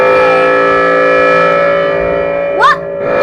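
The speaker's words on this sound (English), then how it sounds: "here's a brand new siren I want to talk about." Civil defense siren sounding a steady, loud, tonal wail during a siren test in Tanker City, Wisconsin, close by, with a brief rising chirp-like sweep near the end.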